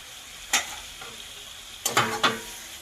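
Chicken is stirred in a pan after the lid comes off, with a quiet frying hiss behind it, one scrape early on and a quick cluster of three close scrapes near the end.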